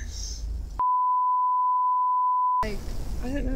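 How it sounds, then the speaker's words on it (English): Steady, loud censor bleep tone of nearly two seconds cuts across conversation on an anarchist advice talk show, with voices talking before and after it. "Can you bleep it out?"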